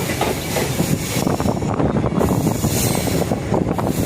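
Passenger train running on the rails during a journey, a loud, dense rumble of wheels and carriage noise with rhythmic clatter and wind buffeting, continuous throughout.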